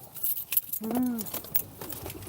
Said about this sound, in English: I'll figure out which one of these 50 pockets I got my keys in.